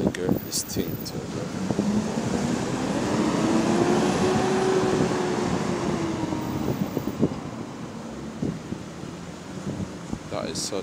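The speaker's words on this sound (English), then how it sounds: "That is such a loud engine fan, man." The engine fan of a 2020 GAL bus, WHV186 on route 188, roars as a broad steady whoosh with a slowly rising and falling hum, heard from inside the vehicle with talk over it.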